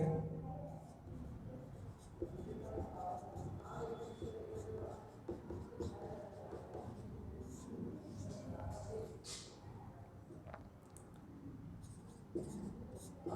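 Chalk or a marker scratches and taps on a board in short, faint strokes during a geometry lesson, interleaved with a teacher's quiet speech.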